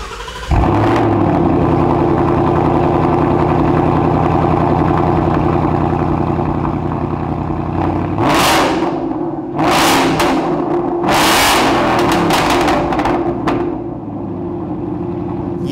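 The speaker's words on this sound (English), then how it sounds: "This is the Borla ATAK with the carbon fiber tips for the 18 through 19 Mustang GT." A 2018–2019 Mustang GT fitted with a Borla ATAK cat-back exhaust with carbon fiber tips idles loudly with a deep, steady drone, then revs sharply three times before settling back to idle.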